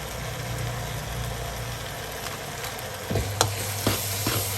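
Red pork filling for steamed buns stir-fried in a pan, a steady low sizzle under a constant hum, with a few scraping spatula strokes toward the end.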